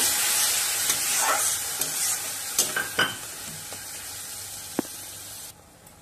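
Spices being stirred and fried with tomato paste for a rohu fish curry, a steady close sizzle with a few sharp scrapes and clicks of the spoon against the pan, cutting off near the end.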